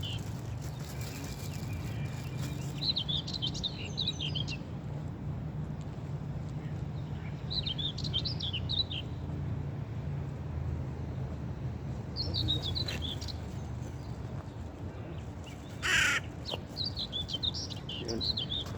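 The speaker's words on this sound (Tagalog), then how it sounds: "Magpapakain tayo ng ibon." Small birds being fed outdoors give short bursts of high chirps that repeat every few seconds over a constant low background rumble, moderately faint and at a slight distance.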